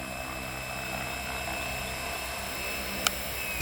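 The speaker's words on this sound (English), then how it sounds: "I've been really impressed with this helicopter" A giant RC helicopter flies with a steady, whining rotor and motor drone that holds at an even level throughout, with one brief sharp click near the end.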